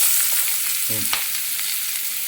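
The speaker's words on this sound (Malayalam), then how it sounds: "മിച്ചമുള്ള എണ്ണയ്ക്കകത്ത് ചുവന്നുള്ളി നമുക്ക് വറുത്തെടുക്കാം." Shallots frying in leftover oil for a Kerala-style chicken stew, with a loud, close, continuous sizzle and a single short clink of a utensil near the middle.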